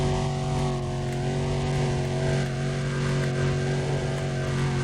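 A car in Need for Speed: Undercover holds its engine at a steady high-pitched drone with slight pitch wavering, loud and continuous, the motor at full speed throughout.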